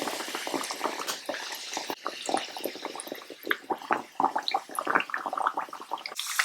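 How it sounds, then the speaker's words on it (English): Kachoris deep frying in hot oil over low to medium heat, a steady close bubbling and crackling sizzle with dense irregular pops running throughout, nothing else over it. "Now keep the heat on low to medium and then deep fry all the kachoris in small batches."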